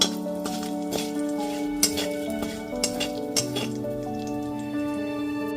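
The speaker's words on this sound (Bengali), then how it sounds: "গ্যাসের ফ্লেমটা লোতে রেখে ফোড়নটা হালকা করে ভেজে নিচ্ছি।" Panch phoron with dried red chilli and torn bay leaf frying in oil over a low gas flame for masoor dal, a steady close sizzle with spoon scrapes and metallic clinks against the pan throughout.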